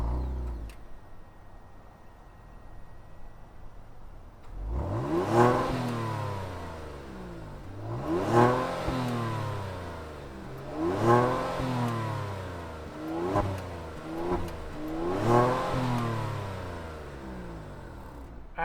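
A 2022 Kia Stinger GT1 performance sedan fires up with a sharp start, then its engine revs hard in four or five rising and falling bursts, loud and close, with no talking.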